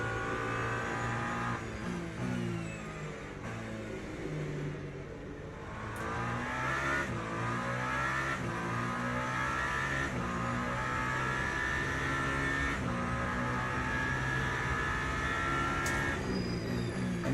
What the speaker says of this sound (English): I went 199 with 82 horsepower in Hyundai i10